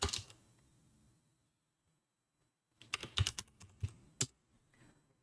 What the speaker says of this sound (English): you can just type keywords here